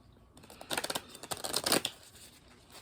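Quiet riffling of cards being shuffled in a few quick bursts, close and soft, no voices.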